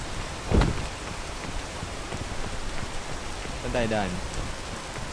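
Steady, dense video game rainfall in PEAK hisses throughout, with a sharp thump near the start and a voice speaking briefly toward the end.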